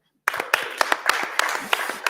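Audience applause for an artist and activist at a talk, a burst of claps starting abruptly after a moment of silence, close and fairly loud, with sharp individual hand claps standing out over steady clapping for about two seconds.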